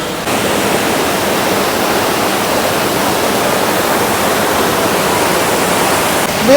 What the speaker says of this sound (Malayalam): വെള്ളച്ചാട്ടം കണ്ടോ?